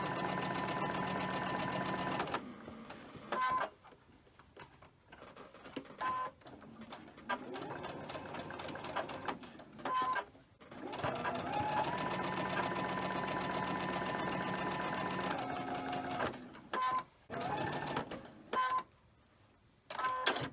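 Sewing machine stitching pinned quilt blocks, a steady close mechanical whir running in long stretches that stop and restart several times, with brief quiet pauses between seams and no talk.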